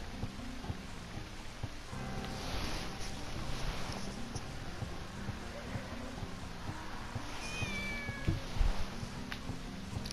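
A cat meows a few times in the video game Shenmue, soft and somewhat distant, set against a steady ambient background hiss and low rumble.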